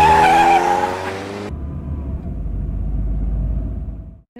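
A vehicle turns around in a Tamil comedy film, its tires squealing in a loud, close, tonal skid for about a second and a half, followed by a steady engine rumble that cuts off abruptly.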